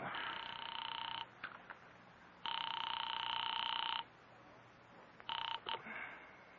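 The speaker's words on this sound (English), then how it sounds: "I am actually ringing North Takaloma City." A telephone rings in long bursts, two clear rings separated by quiet, then short broken chirps as the line clicks and connects.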